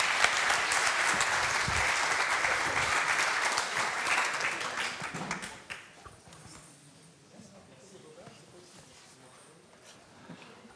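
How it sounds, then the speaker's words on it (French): A conference audience gives a big round of applause as speakers walk on stage, loud and dense for about five seconds before thinning out and fading into quieter room sound with scattered claps and murmurs. "merci de les accueillir sur scène avec un tonnerre d'applaudissements"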